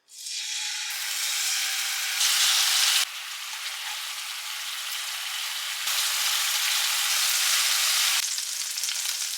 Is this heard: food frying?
yes